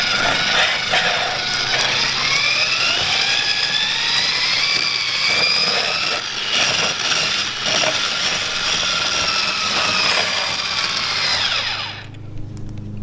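A small electric mixer whirs continuously at high speed through pancake batter, a loud, steady buzzing whine with slight shifts in pitch, then it cuts off abruptly near the end.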